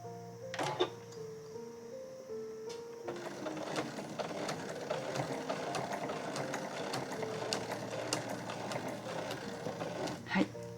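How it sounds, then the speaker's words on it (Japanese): A sewing machine runs steadily for several seconds, its close, rapid mechanical whir and clatter stitching the diagonal seam of a tucked pouch, with a couple of sharper clicks at the start and end. "斜めの対角を縫っていきます。"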